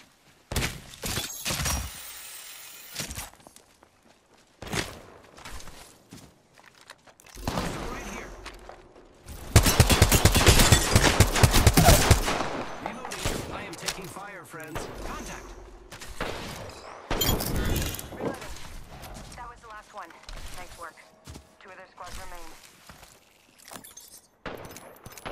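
Bursts of gunfire in Apex Legends, volleys of rapid shots and loud crashing blasts coming in uneven waves with quiet gaps between, and voices talking in places.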